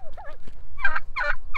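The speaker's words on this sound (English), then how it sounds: "our turkeys are doing great" Turkey toms and hens on a family farm gobble in three loud, close bursts, with a softer warbling call just before them.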